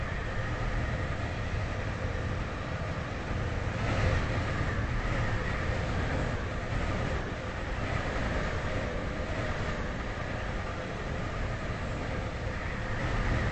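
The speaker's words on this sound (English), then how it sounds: "Welcome on board this Stepford Express service to Leighton City." A Stepford Express train runs toward Leighton City, a steady rumbling rail drone with continuous rattle heard from on board, fairly loud and unbroken.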